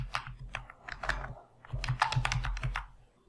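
A computer keyboard is typed on in a quick run of close, crisp key clicks that briefly pause and then resume, as a Linux terminal command for installing MongoDB on Ubuntu is entered. No one speaks.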